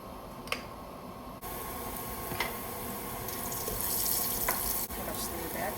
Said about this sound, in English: Let's go to the stove and start stir frying.